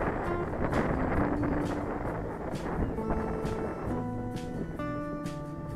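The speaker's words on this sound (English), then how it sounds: "Let's open the throttle again." Engine of an enlarged ASG-32 model motor glider at open throttle, a thin distant whine with shifting pitch carried under heavy wind rush outdoors.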